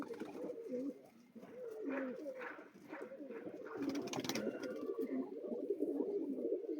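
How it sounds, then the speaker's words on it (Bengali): Sri Lanka generation pigeons kept at a home loft coo in repeated low, throaty phrases, close by and continuous, with some faint rustling. "আমার বাড়ির শ্রীলঙ্কা জেনারেশনের কবুতর"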